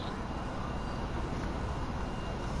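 A Vulcan jet bomber's low, steady engine roar in a flyby in GTA 5 drones on without a break, a broad rumble that stays even and fairly faint throughout.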